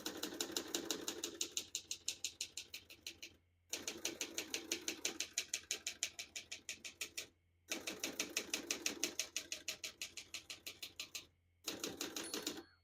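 Rapid mechanical clacking of a 1972 Olivetti Studio 45 portable manual typewriter in bursts of steady keystrokes, broken by brief pauses, close and fairly quiet.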